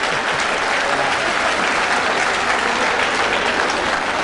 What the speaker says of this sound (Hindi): मैं जानता है इस पर आप जोरदार ताली बजाएंगे।